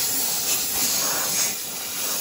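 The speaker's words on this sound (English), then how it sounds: "let's just make sure the blow-off valve is working" An air compressor's blow-off valve venting in one continuous, close, loud hiss of escaping air that holds steady for about two seconds, with no voices.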